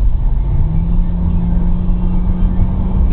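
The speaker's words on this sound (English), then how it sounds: "this is kind of going uphill right now, and you see the car's just accelerating." A 2012 Mercedes-Benz C-Class accelerates uphill with a steady, loud low engine drone and a faintly rising tone, heard from inside the cabin.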